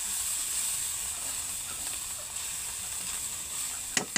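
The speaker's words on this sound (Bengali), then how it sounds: "এরপর এটাকে নাড়বেন ভালো করে।" Chicken curry with garam masala and ground cumin sizzles and hisses steadily in a pan while being stirred, close and continuous, with a couple of sharp scrapes of the spoon at the end.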